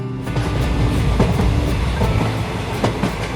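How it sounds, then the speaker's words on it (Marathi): A Rajdhani Express passenger train runs on the rails, a loud steady rumble with rhythmic clickety-clack of wheels over joints, heard close and without talk. "राजधानी एक्सप्रेस ट्रेन क्रमांक दोन दोन दोन दोन दोन"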